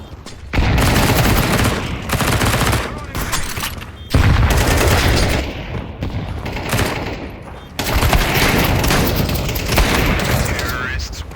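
Counter-Strike 2 match: a grenade blast and dense bursts of rapid gunfire crash in loud, overlapping volleys, with brief gaps between heavy rounds of shooting.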